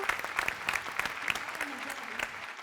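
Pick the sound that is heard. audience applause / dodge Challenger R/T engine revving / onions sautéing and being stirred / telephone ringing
audience applause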